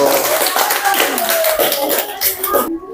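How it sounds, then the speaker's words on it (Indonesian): Classmates at a school lesson clapping for a student group, a close, lively burst of hand claps with overlapping voices and cheers, cutting off abruptly near the end. "Beri tepuk tangan buat kelompok 1."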